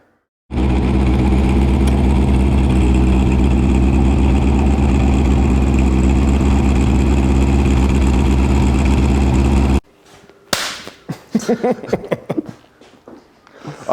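A restomod 1977 Honda CB550F Supersport engine idles loudly and steadily with a throbbing exhaust note for about nine seconds, then stops and people begin talking.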